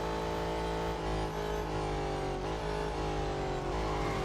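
Race cars in Real Racing 3 roar with sustained, loud engine drone and shifting revs as one closes on another to overtake, continuous engine whine with no talk.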